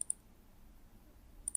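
A computer mouse gives two quick double-clicks, one at the start and one at the end, each a crisp, faint pair of taps separated by near silence.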